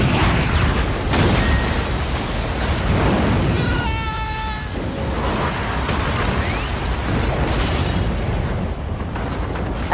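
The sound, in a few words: missile explosion in Tekken movie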